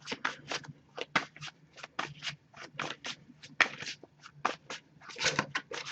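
A deck of tarot cards being shuffled in quick, uneven bursts of riffling and slapping, close and clear, with no talking.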